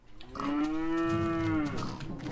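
A cow in the Minecraft video game gives one long, loud, drawn-out moo with a rising then steady pitch, heard alone and close.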